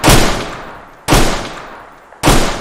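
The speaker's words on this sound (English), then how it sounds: "Hey, you see the shots, bro?" Three loud, close gunshots from the Roblox game South London 2, evenly spaced about a second apart, each a sharp blast that rings out and decays before the next.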